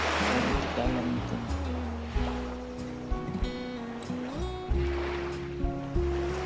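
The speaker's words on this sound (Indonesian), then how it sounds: "Kelihatan ya ombaknya cukup gede sekali di sini." Large ocean waves crashing and washing ashore at Madasari Beach in Pangandaran, West Java, a broad surging roar in waves, with music and someone talking over it.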